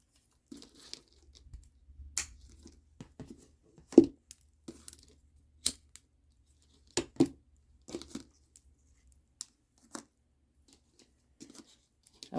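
Scissors snip through string in a scattered series of faint, sharp little cuts and crinkles over a quiet background while beadwork is being made.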